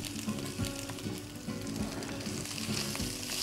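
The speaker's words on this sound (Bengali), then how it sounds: "এটা একটু ভাজা ভাজা করতে হবে।" Spring onion and three colours of capsicum sizzle in a hot pan for chilli chicken, crackling steadily and close by, with occasional soft stirring knocks.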